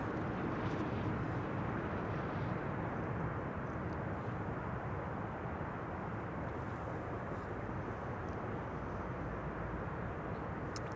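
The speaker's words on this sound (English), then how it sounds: "Reversers being gently applied" An airliner landing at Amsterdam Schiphol roars with a broad, steady rush of engine noise from its thrust reversers, loud and sustained for the whole stretch with no talk.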